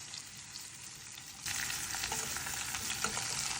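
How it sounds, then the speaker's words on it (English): Cubed pumpkin fries and is stirred in hot oil, a faint sizzle that swells sharply into a loud, dense, steady crackle about halfway through and continues close up with no voices. "add in your cubed pumpkin."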